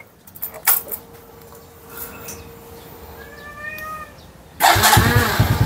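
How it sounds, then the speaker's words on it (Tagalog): Motorcycle engine cranked and started after a stator repair: a key turn and a few quiet clicks and tones, then the engine catches and runs with a loud, steady idle rumble near the end. "Susubukan natin paandarin yung motor."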